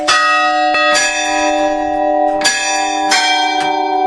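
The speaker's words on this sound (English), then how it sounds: "to listen to the church bells ringing at midday" Loud church bells of a Maronite church in Aleppo, Syria ring close by at midday, with repeated strikes layered over a sustained, shimmering metallic hum that fills the whole stretch.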